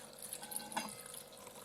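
About 250 grams of water poured into a pie dough mixture of flour and two tablespoons of sugar, heard as a faint, short splash and trickle in a quiet kitchen with no talking.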